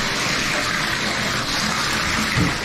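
Water gushes steadily down the drain of a freshly repaired bathtub, a continuous close rushing flow with a brief gurgle near the end.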